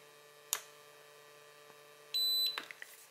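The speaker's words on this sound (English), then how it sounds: "You hear the beep and you have model select." A short electronic beep from an XK A600 RC plane's radio transmitter sounds once, close and clean, amid a few small clicks and taps in an otherwise quiet room.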